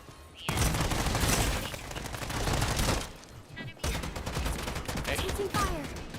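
Rapid gunfire bursts in the shooter game Strinova, dense and loud, with a short pause around the midpoint, then renewed fire mixed with game effects.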